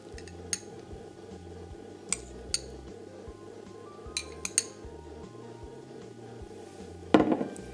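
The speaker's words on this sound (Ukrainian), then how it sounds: "Перемішуємо ретельно." A spoon stirring sour cream, powdered sugar and cottage cheese in a glass bowl, with repeated soft scraping and occasional sharp clinks of metal on glass, ending in a louder clatter.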